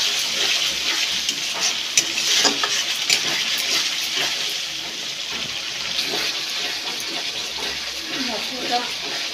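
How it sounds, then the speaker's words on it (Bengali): Spice masala with onion paste sautéing in a pan, a close wet sizzle and bubbling with stirring scrapes throughout, a voice heard faintly beneath. "মশলাটা ভালো করে কষিয়ে নিতে হবে।"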